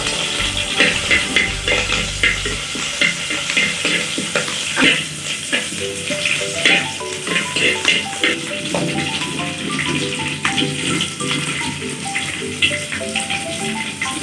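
Garlic, ginger, curry leaves and green chili sizzling loudly in oil in a pan, a continuous close frying hiss with stirring scrapes over it, no one speaking.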